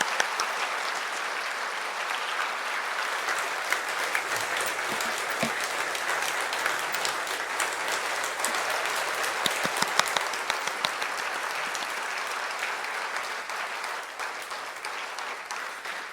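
A congregation at a bishop's farewell thanksgiving Mass applauds a gift presentation in a dense, sustained round of clapping that fills the church and fades slightly near the end.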